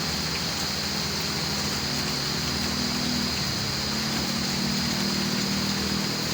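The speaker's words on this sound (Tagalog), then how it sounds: "narinig yung mga motor na yan sa Marilaki" Distant motorcycle engines drone low and steady past a campsite view deck at Mahogany Nature Camp, blended with a constant hiss of rain and insect noise.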